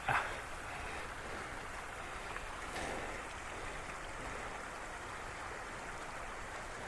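A creek on forested Mount Currahee in north Georgia flows in a steady, soft rushing burble, continuous and fairly faint.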